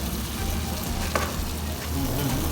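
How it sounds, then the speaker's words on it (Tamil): Masala sautéing over a low flame for a sardine curry gives off a steady, close, even sizzle that holds at one level throughout, with a faint scrape of stirring partway through. "இந்த மசாலாவோட பச்சை வாசனை போகிற அளவுக்கு ஜஸ்ட் ஒரு 1 மினிட் லோ ஃப்ளேமில் வச்சு வதக்கினா போதுமானது"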